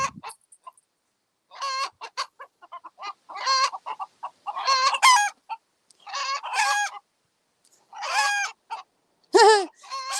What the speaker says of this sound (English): That is lead rooster.